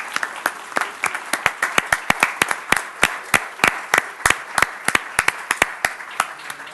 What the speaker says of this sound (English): How about a round of applause for all of our candidates this evening?